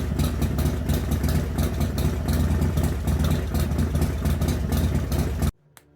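Motorcycle engine fitted with a Mikuni HSR-42 carburetor, running slightly rich, idles with a steady close rumble for about five seconds, then cuts off abruptly into near silence.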